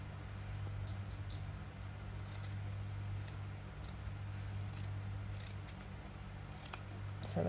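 Scissors cutting through embroidered fabric around a seam allowance, faint soft snips scattered across the clip over a steady low hum, with no one speaking.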